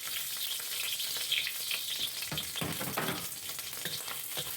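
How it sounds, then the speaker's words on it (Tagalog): Dried shrimp sizzle and crackle in hot oil in a pan, with a steady close frying hiss and occasional stirring scrapes. "i-fry muna natin yung ating dried shrimp para"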